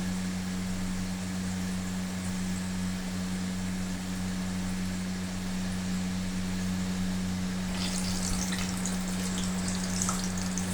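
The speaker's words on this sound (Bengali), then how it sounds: "এই যে ভাজা হচ্ছে।" Mini singaras deep-frying in hot oil, a steady close bubbling sizzle with a low hum underneath, brightening into sharper crackles toward the end.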